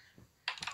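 Soft clicking of computer keyboard keys in a cartoon Mario scene, with one faint tap and then a short louder burst of several quick keystrokes, heard alone.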